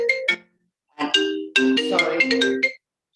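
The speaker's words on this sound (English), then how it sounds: "that's my phone connected to my computer and I couldn't stop it" Melodic phone ringtone played through a connected computer, a few bright tonal phrases in bursts separated by gaps, loud and close, with a brief word spoken.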